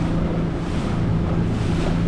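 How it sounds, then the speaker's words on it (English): A boat motoring across open water between islands, with a steady low engine drone, wind buffeting the microphone and waves washing around the hull. "I'm taking a little cruise around the block or the neighborhood by water."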